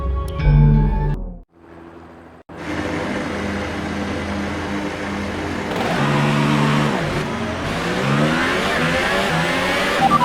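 Renault Formula One car engine in the F1 2018 racing game, driven in cockpit view at Melbourne, Australia: after a brief idle dip the engine roars back, revving up and down through the gears, loud and close with no talk.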